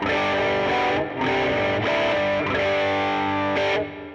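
Electric guitar through a 1981 Inventions DRV distortion pedal turned up, giving a dirty, saturated tone; sustained chords ring out loudly with brief breaks between strums, heard alone.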